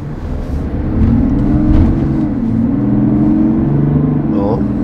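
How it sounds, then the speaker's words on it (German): A Chevrolet Silverado pickup with a 3-litre Duramax diesel pulls away, its engine note rising and sliding in pitch over a few seconds, close and fairly loud, with a voice speaking over it. "3 Liter Duramax Dieselmotor."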